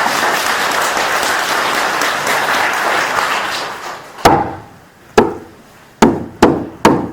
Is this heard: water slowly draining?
no